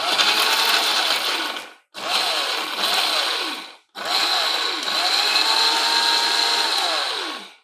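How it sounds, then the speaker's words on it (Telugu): A mixer grinder whirs loudly, grinding coconut with salt, chili and tamarind in three steady bursts separated by brief stops, its motor pitch dipping and rising within each run. "మళ్ళీ ఒకసారి గ్రైండ్ చేస్తే ఉప్పు, కారం, చింతపండు, కొబ్బరి అన్నీ కలిసి చక్కగా తయారవుతుంది"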